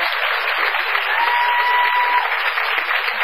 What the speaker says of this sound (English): Give him applause. He deserves it for that.